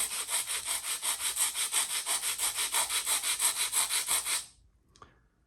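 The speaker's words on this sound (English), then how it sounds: "I'm gonna sneak in with just a little bit of sandpaper here." Sandpaper rubbed by hand over a foam core mock-up of a bottle, a rapid steady back-and-forth scratching of about a dozen close strokes that stops abruptly, followed by a single faint tap.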